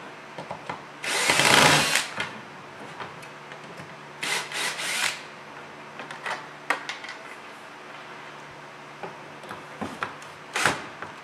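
A power drill unscrews the cabinet panel screws on a hot tub or swim spa, one loud buzzing run near the start followed by shorter bursts and scraping handling noises, close by with no talk.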